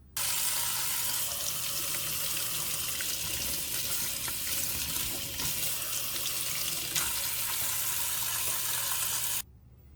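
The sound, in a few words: rinsing water filter cartridge under kitchen sink tap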